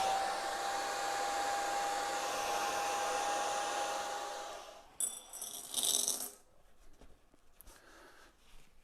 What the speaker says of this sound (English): then you take a hairdryer